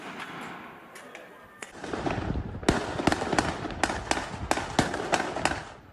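Fireworks pop and crack during street protests in Jerusalem: a series of sharp, fairly close bangs in an irregular burst over a low background rumble.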